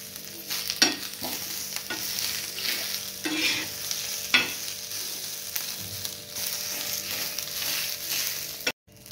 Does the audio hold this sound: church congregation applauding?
no